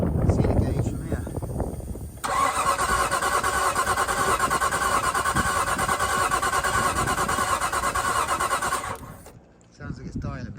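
Nissan R33 Skyline engine with a suspected weak battery cranking in a long steady whir, struggling and failing to fire, then cutting off, with voices talking at the start and end.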